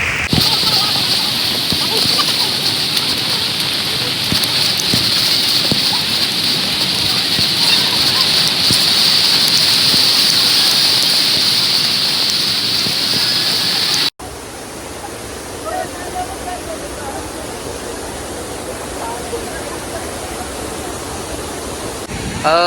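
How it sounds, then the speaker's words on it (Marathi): Fast-flowing water at AnandWadi waterfall near Mumbai, a loud steady broadband rush that fills the first fourteen seconds, then continues more softly after a cut. "पाण्याचा फ्लो बघा किती फास्ट आहे."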